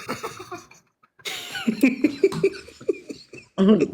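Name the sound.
cough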